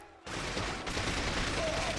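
Gunfire in the James Bond game From Russia With Love bursts in abruptly as a dense, sustained crackle of rapid shots, loud and continuous through the rest of the moment.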